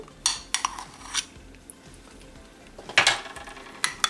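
A spoon stirs cream into gelatin in a bowl, making a few sharp metallic clinks and scrapes against the bowl with quiet pauses between them.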